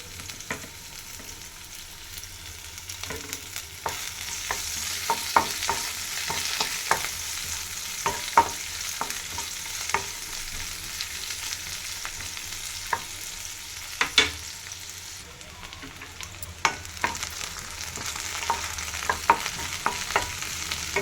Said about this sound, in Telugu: ఇప్పుడైతే ఎర్రగడ్డ, మీడియం సైజు ఎర్రగడ్డ వేసింది.